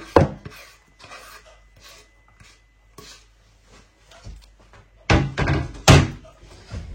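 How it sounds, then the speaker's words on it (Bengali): A knife chops extra coriander leaves on a board while chickpeas are being cooked. A run of quick, light cuts is followed by a few louder, heavier thuds near the end, all close and with no talking. "আর এক্সট্রা ধনিয়া পাতা দেই নাই, একটু কাটতে হবে।"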